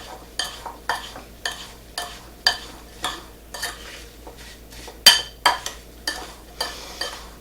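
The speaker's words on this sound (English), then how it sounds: "you just mix it really good" Apple fritter bread batter with extra cinnamon being stirred by hand in a bowl, a steady series of about a dozen sharp scraping strokes of a utensil against the bowl, close and clear with no talking.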